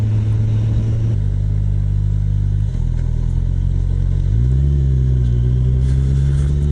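A 2018 Kawasaki Ninja 1000 being ridden, its engine a loud, continuous rumbling drone that shifts pitch as it changes speed, with wind noise throughout.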